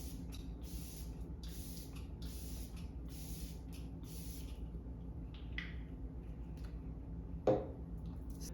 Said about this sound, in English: I'm going to use the Kat Von D setting spray